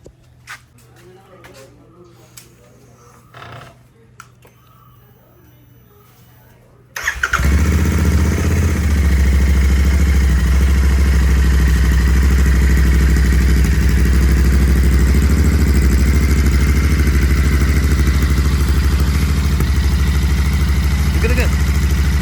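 Royal Enfield Continental GT650 twin fitted with a Gursewak Bigshot aftermarket exhaust fires up after a few quiet seconds of background voices, then settles into a loud, steady, deep idle rumble that runs unbroken to the end.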